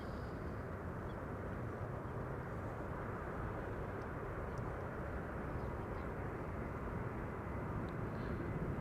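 A Lufthansa Boeing 747 arriving from Miami lands on runway 06 Kaagbaan at Amsterdam Schiphol Airport, its steady jet roar held constant and fairly distant throughout, with no talk.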